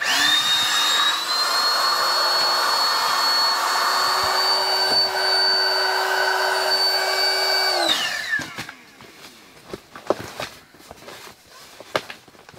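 A steady electric air pump drones loudly and evenly while inflating an air mattress at a campsite, then winds down and stops after about eight seconds, leaving quiet handling knocks and rustles.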